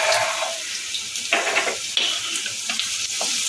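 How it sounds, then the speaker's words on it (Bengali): Cut potatoes sizzling in hot oil in a pan for ghugni, a steady close hiss and crackle with brief stirring scrapes partway through, loud and continuous with no talking. "আলুটা একটু লাল লাল করে ভেজে নেবো"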